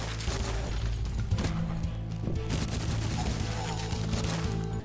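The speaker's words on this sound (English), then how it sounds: "I absolutely adore the feedback from the weapons firing." Rapid gunfire from weapons in the retro shooter video game Cultic, a dense continuous volley of shots with sharp repeated bursts over a steady low rumble, loud throughout.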